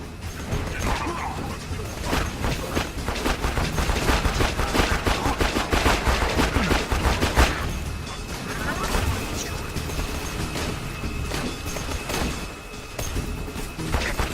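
Rapid automatic gunfire and weapon sounds from the shooter game Borderlands 2 run nearly continuously, dense and loud, mixed with clanking mechanisms and someone talking over the action.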